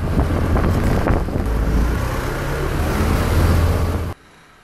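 A delivery motorcycle rides through heavy car traffic, its engine drone and the rush of wind blending into loud steady road noise that cuts off abruptly near the end.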